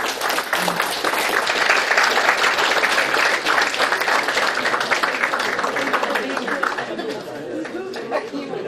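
A loud round of audience applause after a presentation at a river-conservation talk, dense sustained clapping mixed with crowd chatter and a little laughter, tapering slightly near the end.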